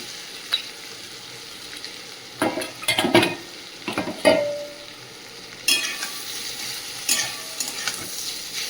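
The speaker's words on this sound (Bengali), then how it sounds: "এবার ভেজে রাখা বরবটি আর কচুর গাঁঠিটা দিয়ে দেবো।" Fried long beans and taro corms are tipped into spices frying in a kadai, a close sizzle punctuated by loud clattering scrapes of a spatula against the pan at irregular intervals.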